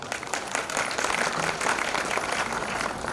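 A crowd claps at a Panchkalyanak religious gathering near a temple, a dense, steady burst of applause lasting a few seconds with no talking over it.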